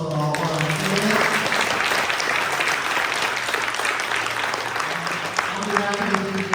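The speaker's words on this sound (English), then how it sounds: "please join me in a round of applause for all of our candidates" An audience at a city candidate forum in Mount Holly applauds the candidates with sustained clapping throughout, while a voice speaks briefly over the start and again near the end.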